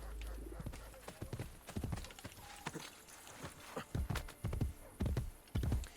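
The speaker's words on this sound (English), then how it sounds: "we're going to travel on horse" Horse hooves clip-clop at a galloping pace in Assassin's Creed Brotherhood, rapid and fairly close, with louder, punchier hoof strikes building toward the end over game ambience.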